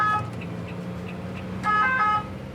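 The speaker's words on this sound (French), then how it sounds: "En entendant la sirène, certains véhicules, comme ce camion, se rabattent par réflexe sur la bande d'arrêt d'urgence." An emergency vehicle's siren on a French highway amid busy traffic, a tonal wail rising in short repeated bursts over a steady background rumble of road noise.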